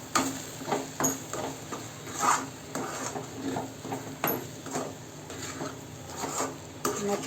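A spatula scrapes and stirs rava upma, a semolina dish cooked with dill and oil, around a pan, with repeated close rasping strokes in an uneven rhythm over a steady background hiss.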